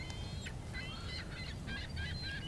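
Several Canada geese in a harbour give repeated honking calls in short bursts at moderate distance, over steady low background noise such as water or wind.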